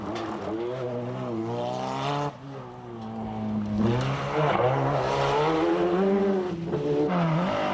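Rally cars, a Toyota and a four-wheel-drive Subaru, racing flat out on a mountain stage of the 1992 Circuit of Ireland Rally, loud close engines revving and shifting through gears with rising and falling whines.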